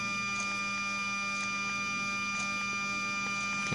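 A powered 1993 Mercedes SL600 throttle body twitching: soft, evenly spaced ticks about once a second over a steady electrical hum, ending with a slightly louder click.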